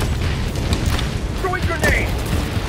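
Explosions in the shooter Helldivers 2, deep rumbling booms rolling over several seconds, with voices and gunfire faintly mixed in.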